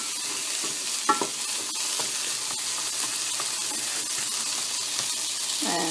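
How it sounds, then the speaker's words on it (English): Vegetables sizzle steadily in a frying pan while a utensil stirs them, with a few sharper scrapes and clacks against the pan over continuous close frying noise. "I end up stirring some more"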